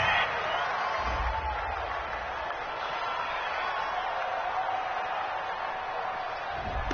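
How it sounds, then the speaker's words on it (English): A video game football stadium crowd roars in a sustained, steady cheer after a referee's call, a broad wash of noise at moderate level with a brief low thump near the start. "This home crowd, they're happy with that call."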